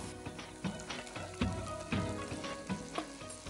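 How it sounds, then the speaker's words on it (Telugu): Fried cauliflower and cashews sizzle in a hot pan of gravy, a close, steady frying crackle with rhythmic stirring scrapes and soft clinks repeating roughly every half second. "సో ఆల్రెడీ వేయించి పెట్టుకున్నాం కదా క్యాలీఫ్లవర్ అండ్ కాజు, అది గ్రేవీలో వేసేసుకున్నాము."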